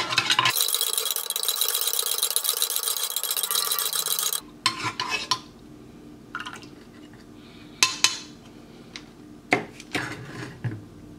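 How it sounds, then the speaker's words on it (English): Sugar gets stirred into coffee in a metal Swedish mess kit, opening with a loud rushing pour or hiss, then quieter scraping and clinking of a spoon against the metal cup in scattered bursts. "Let's add some sugar. Get that all in there. And just give it a stir."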